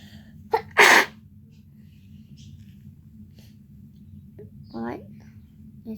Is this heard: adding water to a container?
no